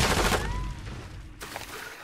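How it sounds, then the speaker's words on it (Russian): Burst of automatic gunfire in Call of Duty: Modern Warfare II, a loud rapid volley at the start that decays into echoing tails, then a fainter crack shortly after. "звук выстрелов просто глушит."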